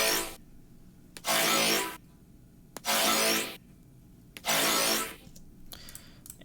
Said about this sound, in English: So these layers right here are the actual color layers.